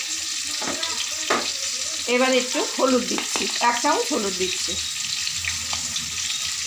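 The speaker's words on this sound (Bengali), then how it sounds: "একটু কচুটা আমি একটুখানি নুন হলুদ দিয়ে একটু নেড়ে চেড়ে নেব, ভেজে নেব" Taro pieces frying in a pan with salt and turmeric, with a steady close hiss of sizzling oil and some stirring running beneath someone speaking.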